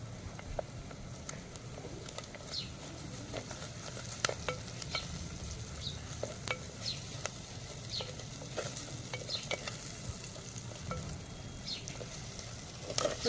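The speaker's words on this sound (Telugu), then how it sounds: "కొంచెం పచ్చి వాసన పోయేదాకా గోలాలి అల్లం." Ginger garlic paste with turmeric being stir-fried in a pan, with a faint, steady sizzle and repeated scraping and tapping of a spatula throughout.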